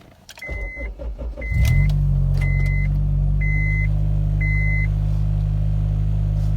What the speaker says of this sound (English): I'm gonna start it up.